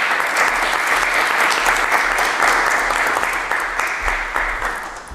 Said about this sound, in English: I'd like you to please give the panel a welcoming round of applause